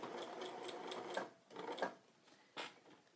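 Sewing machine running a straight stitch on sweater fabric for mittens, then backstitching to lock: a faint close whirring hum in short runs with brief pauses, no voices.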